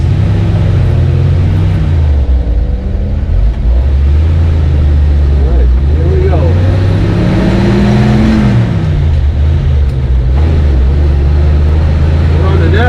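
A 1956 flat fender Dodge Power Wagon truck on 37-inch tires cruises in fourth gear without overdrive, its engine droning loud and steady with low rumbling tones that rise and dip slightly, and someone talks over it.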